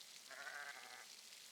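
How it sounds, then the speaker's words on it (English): A sheep bleats once in the medieval-set video game Pentiment, a thin, drawn-out game sound effect heard faintly and alone. "I found Johann's lost sheep."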